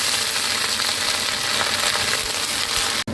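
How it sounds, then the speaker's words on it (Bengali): Spring onion stalks with salt and turmeric fry in very hot mustard oil, a loud, continuous close-up sizzle that crackles evenly throughout, cut off by a brief break at the very end. "এটা নুন হলুদ দিয়ে পেঁয়াজ কলিটা আমি ভেজে নিয়েছি"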